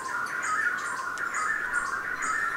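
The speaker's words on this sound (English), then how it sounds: "hears the calls and duets of the black-breasted wood quail" Black-breasted wood quail in Costa Rican forest give repeated chirping, squawking calls and duets, a steady loud chorus with no pauses across the whole stretch.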